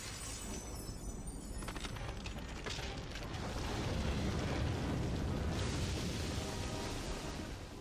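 A dark gem is smashed in the video game Spyro: A Hero's Tail, in the volcanic Molten Mount level. It comes out as a loud, sustained crumbling and shattering roar that swells midway and fills the whole clip.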